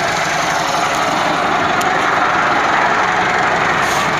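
A Massey Ferguson 385 4x4 tractor works in mud while helping pull a loaded sugarcane trolley, its engine giving a loud, steady, unbroken roar with no talking.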